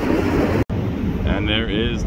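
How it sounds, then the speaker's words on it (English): Strong wind buffets the microphone on the deck of a ship at sea, a loud continuous low rumble with a brief dropout, and a faint voice partway through. "I got a lot of wind behind me."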